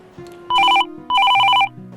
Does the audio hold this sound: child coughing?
no